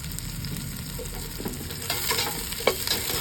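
Onions sauté in a pan for Pangasinan-style pork igado, making a close, continuous sizzle broken by soft scrapes and taps of a stirring utensil.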